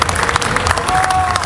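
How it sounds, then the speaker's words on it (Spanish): Crowd applause for the queen of the Río Verde 2015 regional festival, a dense steady patter of many hands clapping throughout with faint cheering mixed in. "Le damos un fuerte aplauso a nuestras autoridades y a nuestra soberana Teresita Primera"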